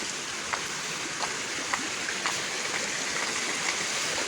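A forest river near a Sabang waterfall rushes in a steady, even wash of flowing water, with faint clicks of footsteps or small knocks along the way.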